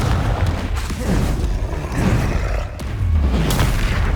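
A Confringo fire spell bursts with a heavy booming blast in the Hogwarts Legacy video game, loud and close, with rumbling impacts throughout.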